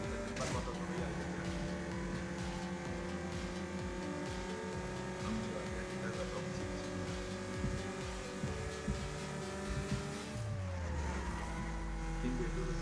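A race car in Need For Speed Most Wanted roars continuously at high revs with shifting engine tones, then winds down and swells again near the end, loud and close, with faint talk in the background.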